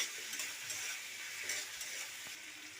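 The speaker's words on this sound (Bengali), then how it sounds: "মশলাটাকে ভালো করে ভেজে নেব।" Spice paste with cumin seeds fries in oil in a pan, giving a steady, fairly quiet sizzle with occasional scraping stirs.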